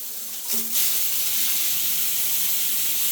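A shower runs wide open in a wet bath, throwing water out into the cell: a steady, loud rush of hissing spray with no break, close by and with no talking.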